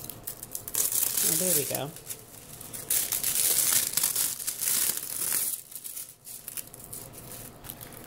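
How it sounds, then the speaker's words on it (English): Plastic wrapping being peeled and crinkled off a clear holographic traveler's notebook, close-up rustling and crackling that comes in bursts, with someone speaking briefly partway through. "I'm obviously going to have to work to take this plastic off."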